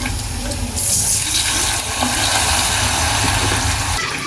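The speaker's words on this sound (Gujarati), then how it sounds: "હવે નાખી દઈશું પાણી" Water is poured into a hot tempering of curry leaves, green chilli and sugar for khaman, giving a loud rushing hiss and splash that swells and then settles into a steady bubbling.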